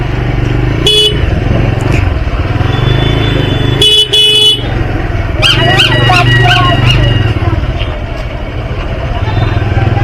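A petrol motorcycle engine drones steadily through crowded Andul market traffic, with several sharp horn toots from nearby vehicles and people talking around it.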